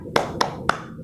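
Three sharp hand claps from children in a primary school classroom doing a rhythmic cheer, evenly spaced and close by with a quiet background.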